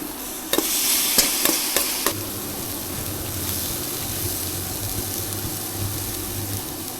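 Green gram fries with spices in a pan, opening with several sharp knocks from a spoon or the tipped-in grains, then settling into a steady sizzle and low hiss with gentle stirring, close up.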